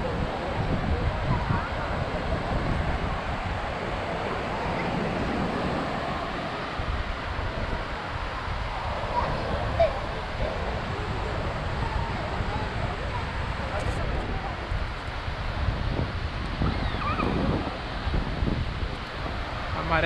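Sea waves and wind on a crowded beach at Balneário Camboriú on a clear day with a low tide, a continuous broad surf wash and wind rumble close to the microphone with faint voices in the background.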